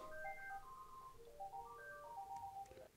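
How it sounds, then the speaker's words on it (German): A telephone rings indoors with an electronic melodic ringtone, a run of warbling tones about three seconds long, moderately loud and with no talking. "Jetzt klingelt das Telefon."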